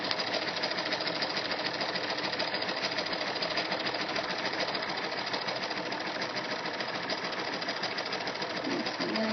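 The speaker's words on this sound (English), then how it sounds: "And I just stretch this elastic as it sews." A sewing machine stitching elastic onto fabric runs in a steady, continuous whir, close and alone without talk.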